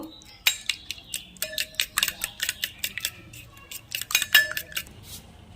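Eggs are beaten in a bowl with a utensil for a raw banana kebab, a rapid series of close, bright clinking taps in an uneven rhythm, briefly pausing before resuming.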